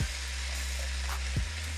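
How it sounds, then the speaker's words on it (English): Ground beef sears in a hot pan, making a continuous, close sizzle with a low rumble underneath during one short stretch. "And as the beef is searing"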